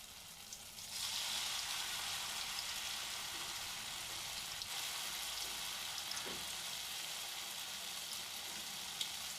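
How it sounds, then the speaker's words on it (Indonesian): Tofu and beluntas leaf fritters frying in hot oil, a steady close crackling sizzle that rises after the first second and holds throughout, with a few faint clinks and no talk. "Kita proses goreng lagi untuk yang kedua kalinya."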